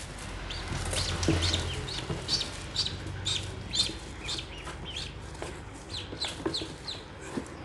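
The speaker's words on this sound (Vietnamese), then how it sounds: "Còn đây là những bé vịt này đã khô." Newly hatched ducklings cheep in high, rapid, overlapping peeps, close by, over a low background hum with no talking.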